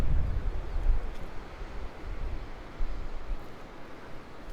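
Strong wind buffets the microphone at the edge of the Güver cliff near Antalya, a low rumbling roar that swells and eases in gusts, with no talking.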